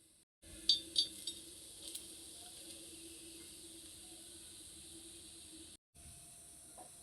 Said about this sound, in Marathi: आता आपण त्यामध्ये खोबरं सुद्धा टाकूया आणि खोबरं सुद्धा भाजून घेऊया.